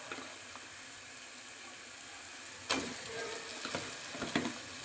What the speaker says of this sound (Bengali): এগুলো সব দিয়ে দিচ্ছি চিকেনগুলো কড়াইতে